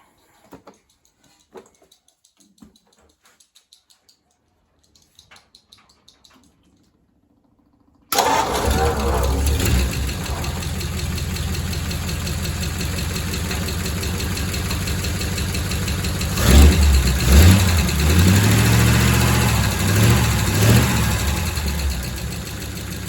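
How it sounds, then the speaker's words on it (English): A car engine, freshly fitted with a new exhaust, cranks and fires up loudly after quiet tinkering, settling into a deep rumbling idle with a couple of throttle blips near the end. "Righto, exhaust is on. Let's see what it really sounds like."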